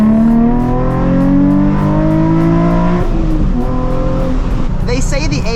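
A Nissan 350Z with the HR engine pulls at full throttle, its loud, close engine note climbing steadily through the revs, dropping at a gear change midway, then rising again, with a voice faintly underneath.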